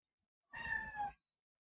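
One short cat meow, moderately faint and slightly distant, rising briefly out of near silence, with no voices.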